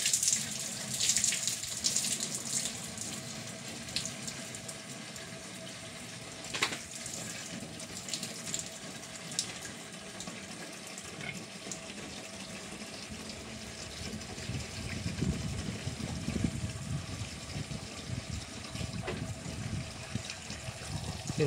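Running water fills a pig trough on a farm, a steady hissing flow heard close with some clanks and background noise and no speech.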